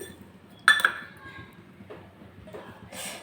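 A pan set down on a stove with a sharp metallic clink, then quiet kitchen handling and a soft rustling hiss as sesame seeds are added, with no talk.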